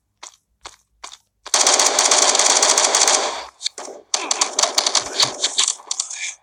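Rapid bursts of automatic gunfire in the video game Modern Ops, a few short shots then long sustained volleys, loud and close.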